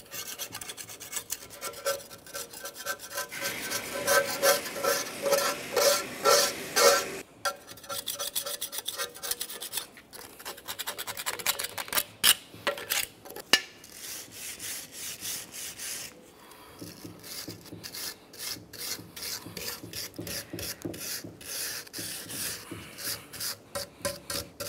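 A scraper rasps over an old intake gasket surface on a 1994-2002 Dodge Ram 2500 engine, making close, repeated scratchy strokes in uneven bursts with brief pauses between.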